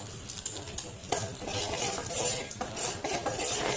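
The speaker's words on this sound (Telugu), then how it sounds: "సో అందులో 2 eggs వేసేసుకుంటున్నాను." Two eggs go into a pan of browned onions for egg pasta, with a utensil clinking and scraping against the pan and faint sizzling under repeated sharp taps.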